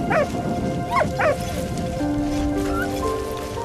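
A dog companion in the World War game Valiant Hearts gives three short whimpering yips close by, over a steady rainy, rumbling wartime backdrop with faint musical tones.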